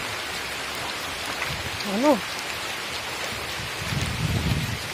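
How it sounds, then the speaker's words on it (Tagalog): Heavy rain pours down in a mountain forest with bamboo, a dense, steady hiss of drops on foliage and surfaces close around, as someone briefly speaks and a low rumble swells near the end. "Ayan oh, lakas ulan."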